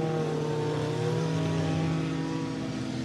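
Race cars roar around the oval at Ohsweken Speedway, a dense, loud, continuous engine drone with steady pitch and no talk over it.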